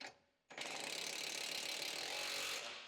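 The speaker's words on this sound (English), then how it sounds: "Use an 18mm short socket with a long extension and an electric impact wrench to tighten the mounting bolt at the front of the lower control arm" An electric impact wrench with an 18mm short socket on a long extension tightens the front lower control arm bolt of a 2015 Ford Escape. After a brief quiet start, it gives a loud, steady burst of rapid hammering that lasts over two seconds.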